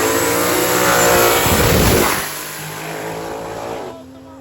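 A race car, freshly fitted with new springs, runs on track on a 107-degree day: a loud engine roar that builds and then eases into a steadier, fainter drone, with some voices faintly underneath.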